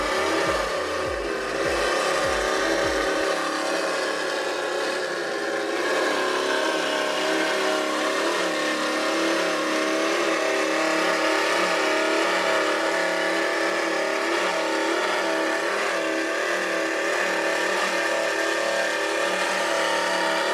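A powerboat with big, loud 700 engines in a harbor gives a steady, powerful engine roar that holds at high volume throughout, with a brief lower rumble at the start.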